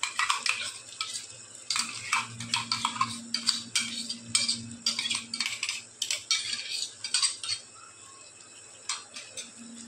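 Stirring tomato puree into a mutton nali chap masala, with repeated scraping and clinking of a spoon against the pot in irregular bursts over a faint low hum.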